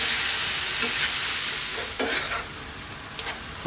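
Diced tomato sizzles loudly in a hot pan and gets stirred through, a steady dense frying hiss broken by a few scraping strokes of the spoon.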